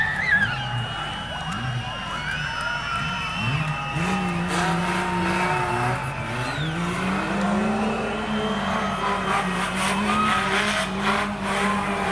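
Race car from a feature race at a speedway passing on its victory lap, engine drone rising and shifting as it goes by, heard under a continuous roar of crowd and track noise with faint announcer talk.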